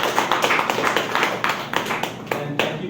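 A small audience claps for a guest speaker at a career talk, a short burst of fairly close, distinct handclaps with audible individual hits, thinning slightly toward the end.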